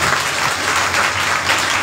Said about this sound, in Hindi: अब लोग कोई ताली नहीं बजाएगी लोग।